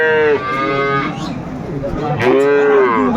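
A dairy cow moos loudly and close by at a cattle market in Aftabganj, Dinajpur, two long, drawn-out calls with a short pause between them.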